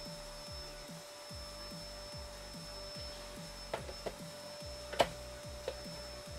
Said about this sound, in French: du coup je me fais passer l'aspirateur pendant le stream